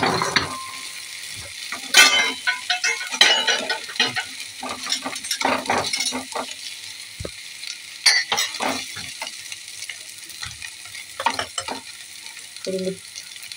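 Spices with ground ginger sizzle in a pan while a spoon scrapes and stirs, with clinks of metal on metal, close and continuous with no talking.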